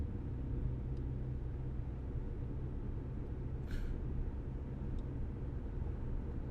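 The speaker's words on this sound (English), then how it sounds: "We're making a right turn right now on Street" Car cabin rumble from a vehicle driving steadily, a constant low engine and road drone throughout with a brief faint higher whoosh midway.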